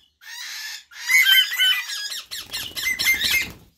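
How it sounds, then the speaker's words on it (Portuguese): Young Eastern rosella chicks calling in harsh, raspy squawks, several loud bursts close by with brief pauses between them. "Um pouquinho dos filhotes de Rosella."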